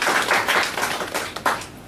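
Audience applauding at a gathering in Beauville, a dense wash of steady clapping from many hands, fairly loud and continuous, with a few sharper claps near the end.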